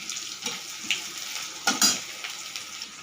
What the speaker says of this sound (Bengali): সরষের তেলে 5 ফোড়ন, লঙ্কা, কাঁচা লঙ্কা, পেঁয়াজ আর 2 কোয়া রসুন থেতো করে দিয়ে একটু ভাজছি